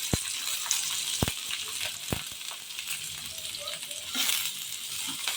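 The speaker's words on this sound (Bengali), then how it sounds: "পেঁয়াজটা দিয়ে দিচ্ছি।" Chopped onions hit hot soybean oil in a pan and fry with a steady hissing sizzle, punctuated by a few sharp clinks of a utensil against the pan, close and moderate in level.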